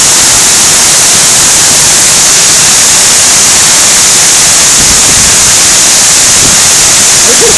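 Steady, close and loud roar of Benlister Falls in spate after heavy rain, an unbroken hiss of rushing water with no voices.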